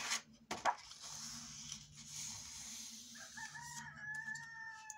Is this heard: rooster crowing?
yes